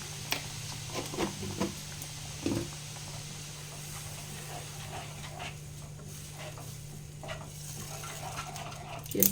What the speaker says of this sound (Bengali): ওটা নাড়াচাড়া করব ভালোভাবে কষে নেব